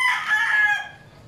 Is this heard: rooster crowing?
yes